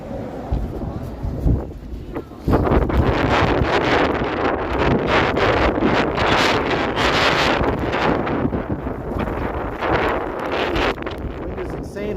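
Strong, gusting wind buffets the microphone outdoors in downtown Toronto during a snowstorm, heard as loud, rough roaring bursts that rise sharply after a calmer opening, with a voice speaking under it.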